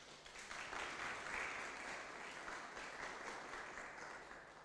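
Audience applause at a student parliament inauguration on the UFS QwaQwa campus, a sustained wash of many hands clapping at moderate distance.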